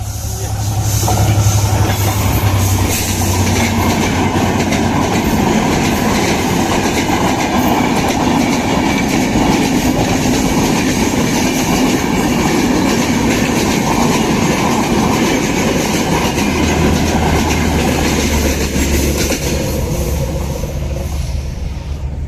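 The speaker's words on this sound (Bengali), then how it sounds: "ট্রেন চলে আসছে" A train rumbles past continuously on an old railway bridge with rhythmic clattering of wheels on rails and a heavy low drone, loud and close throughout.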